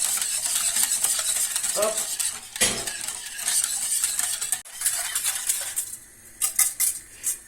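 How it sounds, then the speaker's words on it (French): A whisk rattles and scrapes steadily against a bowl as hot milk is worked into a frangipane mixture, with metallic clinks and brief pauses. A single short word is spoken. "Je vais renverser une partie du lait, pas tout. Voilà, dans mon mélange que je vais bien touiller comme ça."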